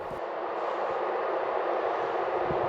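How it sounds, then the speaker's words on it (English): A Regional Express train bound for Cologne in North Rhine-Westphalia near the Dutch border gives off a steady, broad rumble and hiss at close range, with no voices. "Yeah, this is my train to Cologne"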